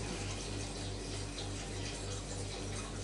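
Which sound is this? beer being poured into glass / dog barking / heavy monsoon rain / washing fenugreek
beer being poured into glass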